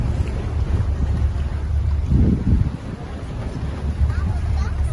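A steady roar of wind and engine rumble fills a boat trip on the sea near the Bosphorus bridge in Turkey, with water wash and faint voices underneath.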